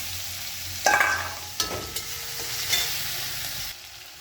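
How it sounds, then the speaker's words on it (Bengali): Garlic paste frying in a small amount of hot oil for a chicken leg-piece dish, a steady close sizzle with a few sharp spatters and clatters of stirring in the pan. "এইবারে রসুন বাটাটা দিয়ে দিলাম"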